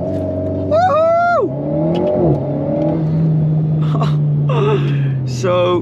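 Alpine A110 sports car pulling away hard on launch control, its engine note climbing and holding steady under loud gasps and excited vocal reactions from people inside the cabin.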